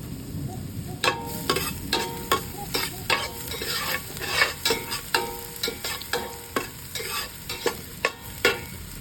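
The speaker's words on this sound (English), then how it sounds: "we are in the process of sauteing" Pork for Pangasinanese igado sautés in a pan, a constant sizzle punctuated by a regular series of sharp spatula scrapes and clacks, close and moderately loud, with no voices.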